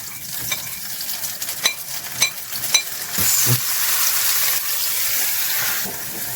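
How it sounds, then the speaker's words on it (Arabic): Tomatoes go into a hot frying pan, setting off a sudden loud, steady sizzle that holds to the end, after a few clinks and scrapes of stirring. "بيتهيألي كده المفروض ننزل بالطماطم"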